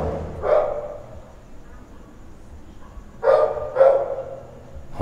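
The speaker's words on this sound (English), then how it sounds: "You can hear all the dogs barking, the sounds of the city more or less." Dogs bark in a residential neighborhood of Lima, a single yap early on and then a pair of quick barks, moderately distant over a low hum of city background.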